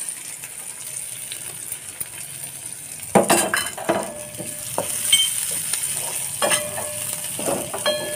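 Chopped garlic and green chilies dropped into hot oil with browned onions, sizzling softly while a metal spoon clinks and scrapes against the pan in several short bursts.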